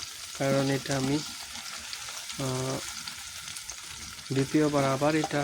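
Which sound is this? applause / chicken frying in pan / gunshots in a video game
chicken frying in pan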